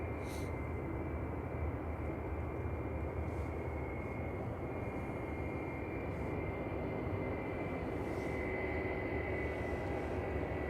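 A British Airways Airbus A320-200 from London Heathrow at Manchester Airport gives a steady, continuous engine roar at moderate distance, an even broadband rumble with a faint high whine holding throughout.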